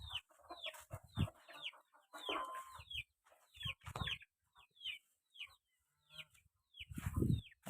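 Hens and chicks of a white poultry breed cluck and chirp on a poultry farm, with short repeated calls in bursts and brief pauses, fairly close and moderately loud, no talking.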